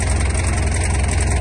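A vehicle engine idles steadily and close by during a 12V winch test with the alternator running, a constant low rumble with no talk.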